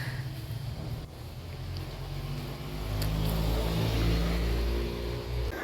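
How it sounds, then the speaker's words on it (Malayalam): A bus ride heard from inside the cabin: a steady low engine drone and road rumble that swells louder partway through, with wind noise and no clear talk. "ഞങ്ങൾ ബസ്സിൽ കയറിയിരിക്കുകയാണ്"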